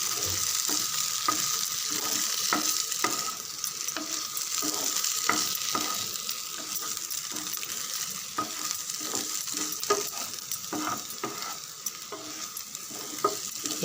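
Masala potato snack topped with coriander leaves being stirred gently in a pan just after the stove is switched off: a soft steady sizzle with regular tapping and scraping stirring strokes, no talking.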